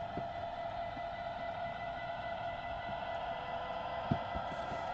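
A True Line Trains model train runs on a small loft layout, giving a steady motor hum and whine with faint rhythmic clicks of wheels over rail joints, continuous and close.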